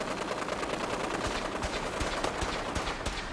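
Rapid gunfire rings out in Fallout 4 as shots are fired at a courser, a dense run of sharp cracks and bursts over a steady game background, with no talk.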